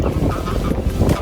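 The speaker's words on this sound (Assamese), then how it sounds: "আপোনালোকে এটা আৱাজ শুনিছে হাঁহৰ আৱাজ শুনিছে" Wild ducks calling on the grounds of Hillsborough Castle, a steady run of honking and quacking calls packed together over dense outdoor background noise throughout the short stretch.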